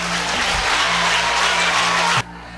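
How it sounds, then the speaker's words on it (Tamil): An audience claps in a dense, steady burst through a Tamil speech event, the applause cutting off abruptly near the end while a low hum continues. "இதுக்கு கைதட்டுங்க தமிழா"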